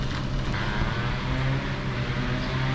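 A dirt bike engine running in high gear, a loud, steady, unbroken drone at high revs that holds throughout.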